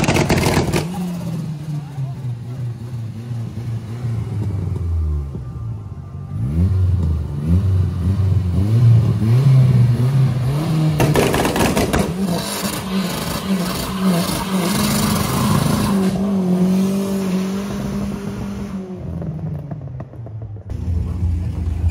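A Ford Mustang 5.0 V8 revs loudly through several rising and falling pulls, its deep roar swelling and easing, with people talking over it at times.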